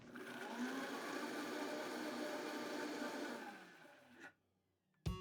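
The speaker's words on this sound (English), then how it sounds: "And then you just mix it up in your blender, all together." A kitchen blender whirs steadily, mixing a buttermilk salad dressing with apple cider vinegar, salt and pepper, running loud and even for about four seconds before spinning down and stopping.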